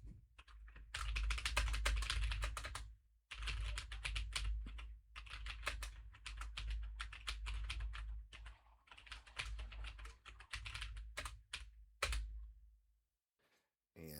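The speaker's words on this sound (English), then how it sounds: "And now we will do a typing test with the FIFINE mic." Fast typing on a computer keyboard picked up by a FIFINE K688 dynamic microphone: dense bursts of close clicky keystrokes broken by short pauses, with near silence at the end.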